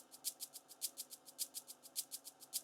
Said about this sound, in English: this is what the shaker loop sounds like